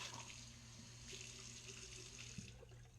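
A tap runs water faintly and steadily in the background while shaving gear is prepared, a soft continuous hiss and splash.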